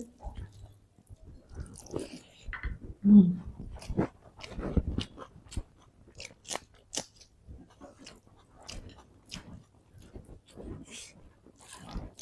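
Someone chewing food, probably rice with curry and potato, with soft wet mouth sounds and occasional crunches repeating at close range, mixed with quiet voices talking at times.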